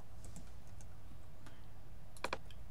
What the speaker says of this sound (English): So I'm going to type in a password